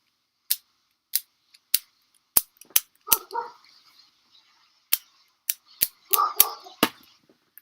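Beyblade spinning tops, a Takara Tomy B-100 Spriggan Requiem starter set, clash in a stadium with a run of sharp plastic clicks and snaps, broken by two brief clattering bursts as the tops come apart.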